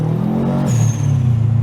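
A 1996 Subaru WRX STi with all-wheel drive revs hard close by, its engine note dipping briefly as it shifts before climbing again in a steady, throaty drone.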